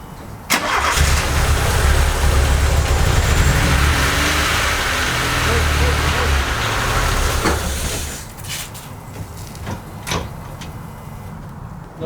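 VW MK2 Golf GTI 16V engine cranking and catching, then running roughly and loudly up close for several seconds before dying away, leaving a few sharp knocks and clicks.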